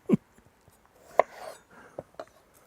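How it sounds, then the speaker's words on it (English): Brad's Atomic tomatoes sliced lengthways with a knife on a board, a few sharp chops and soft slicing scrapes, close and irregular, with no talk. "Even got some Brad's Atomics, which I will cut lengthways because they'll be a bit awkward cooking on their pointy end."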